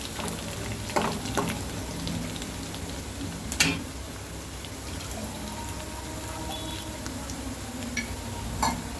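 Onion tempering fries in a pan, with a soft, steady crackling sizzle. Occasional sharper pops and a brief scrape stand out near the middle.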